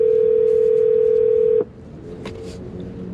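An outgoing phone call tone hums steadily and loudly for about a second and a half, then stops abruptly, leaving faint background hiss and a few small clicks.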